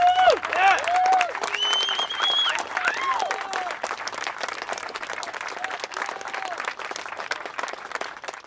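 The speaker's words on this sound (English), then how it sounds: "give everyone here a round of applause for coming out today in favour of Cannabis Law Reform" Crowd applause at a cannabis law reform protest outside parliament, steady outdoor clapping that swells early then gradually thins, with a few cheers and voices mixed in.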